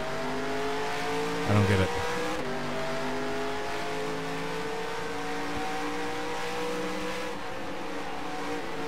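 Race car engine droning steadily in the NR2003 stock car racing game, with a brief burst of tire squeal early on and a voice speaking briefly over the sustained engine tone.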